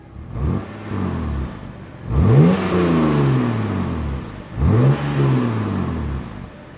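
A BMW E90 325 with an aftermarket ARMA valved exhaust, valve shut, revs up three times, each throttle blip rising sharply and settling into a deep, muffled drone, with short idle gaps between pulls.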